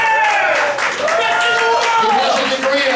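A crowd claps steadily and continuously throughout, with a tonal voice or whoop riding over the applause.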